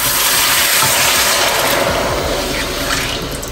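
Ingredients for laing with lechon kawali are rinsed under a strong, steady stream of tap water that splashes loudly and continuously, close up and without talk.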